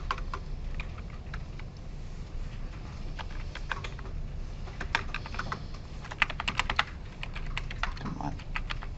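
Irregular bursts of clicky typing on a computer keyboard at a lecture machine, quick patters with pauses, moderately close over a quiet room.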